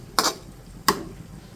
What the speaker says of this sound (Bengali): এখন দেবো একটা ঢাকনা দিয়ে